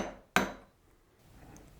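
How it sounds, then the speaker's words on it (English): A hammer strikes a small punch to peen the bolt on a Honda XR250R dirt bike shock. There is one sharp close metallic tap that rings out briefly in a quiet workshop. "Just got a little punch and a hammer"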